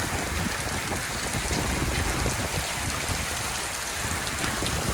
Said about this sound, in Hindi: झालाबारी शुरू हो चुकी है और ज़बरदस्त झालाबारी